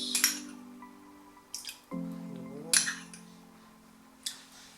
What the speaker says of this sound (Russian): И вот сейчас посчитаю в ложках, сколько у меня уксуса.